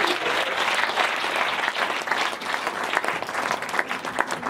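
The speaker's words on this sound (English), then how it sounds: "So, just a round of applause for that bit of it." Wedding guests at a 2014 reception applaud during a best man's speech, a full, even roar of clapping from a sizeable crowd that holds steady from start to finish.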